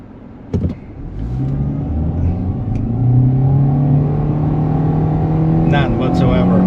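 A 2023 Kia Rio LX engine revs up and accelerates in sport mode, its droning pitch rising steadily and holding loud, with a brief clunk near the start.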